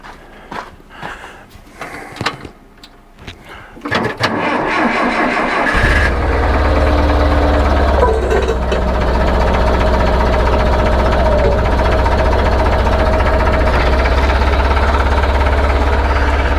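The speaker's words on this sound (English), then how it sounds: "So we're going to get the forklift fired up and get to it." A forklift engine cranks and catches after a few seconds of quiet handling noise, then settles into a loud, steady mid-pitched idle that runs to the end, at a salvage job on an M151 project.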